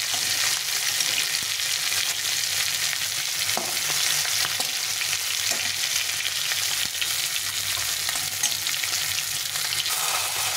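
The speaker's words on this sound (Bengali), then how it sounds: "মাছগুলো একটু কড়া করে ভেজে নিতে হবে।" Fish pieces sizzle and crackle steadily in hot oil as they fry crisp and reddish for a thin fish curry with ridge gourd; the dense, close frying hiss runs unbroken throughout with no talking.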